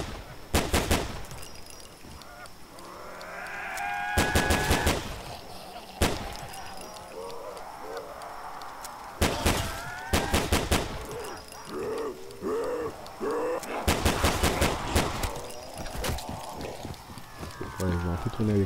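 Pistol shots ring out in bursts through a zombie map in a video game, several sharp cracks in clusters, while people keep talking excitedly over the action.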